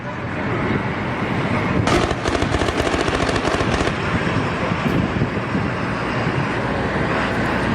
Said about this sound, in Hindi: सरकारी इमारतों पर बड़े हमले लगातार जारी हैं, एक के बाद एक फायरिंग हो रही है